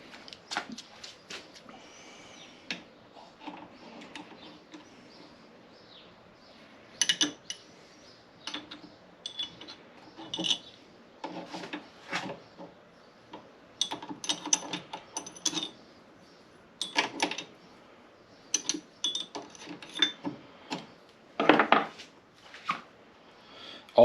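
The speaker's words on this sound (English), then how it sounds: "guess we'll use a little wrench" A small wrench being worked on a mini lathe, giving sparse metallic clicks, ratcheting taps and clanks in irregular bursts against a quiet workshop background, with no talking.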